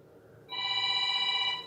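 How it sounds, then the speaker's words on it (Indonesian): After a brief quiet moment, a telephone rings with an incoming call, a steady electronic tone that rings continuously and fairly clearly. "Kakak angkat telepon dulu, ada telepon yang masuk."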